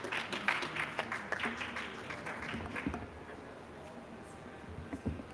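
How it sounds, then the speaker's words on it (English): A conference audience applauds, a dense patter of many hands clapping at moderate volume that thins out over about five seconds, with faint voices underneath. "Please, Frank, let's give Frank a round of applause."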